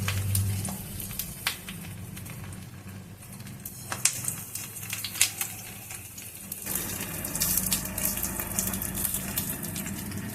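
Prawn paturi parcels laid into hot oil in a wok, giving a steady low sizzle with watery crackles and soft scraping clatter throughout, no voices.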